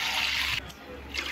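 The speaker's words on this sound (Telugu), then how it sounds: "ఇట్లా 4 గ్లాసులు నీళ్ళు పోసుకోవాలన్నమాట" Water from a glass poured into a pot for vegetable cashew paneer biryani, a steady splashing pour near the microphone that eases off midway and then resumes briefly.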